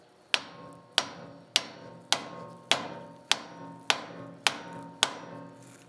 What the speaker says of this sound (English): So now we'll try a block of wood and a sledgehammer.